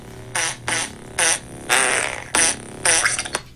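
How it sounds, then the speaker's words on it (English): A fart beat played on request: a run of about seven short, buzzing fart sounds in an uneven rhythm over a faint steady musical background, loud and close. "Beats make me a fart beat."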